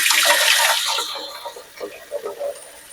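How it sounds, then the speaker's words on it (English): Water streams from a filtered kitchen sink tap, a hissing splash that fades after the first second, followed by softer trickles and small bursts. "I'll get it out of my filtered sink because I'm not going to use a lot of it."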